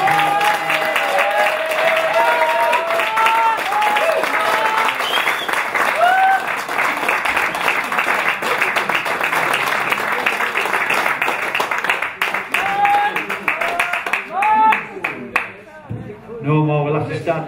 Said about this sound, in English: Nice round of applause once again for Stan.